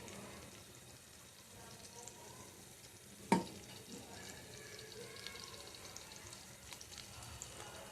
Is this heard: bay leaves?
yes